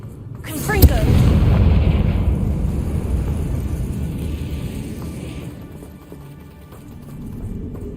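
The Confringo spell in the video game Hogwarts Legacy, a sharp blast followed by a rumbling, crumbling boom that slowly decays into a low ambient tail, with a voice speaking near the start.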